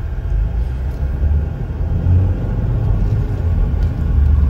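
A 2021 Chevrolet Equinox LT on Michelin tires rolls along on a test drive, its steady low engine and road rumble filling the cabin loudly and continuously with no talk.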